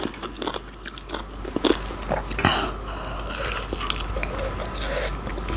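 Crunchy fried pork belly being bitten and chewed up close, sharp crackling crunches at irregular intervals over a quiet background with no speech.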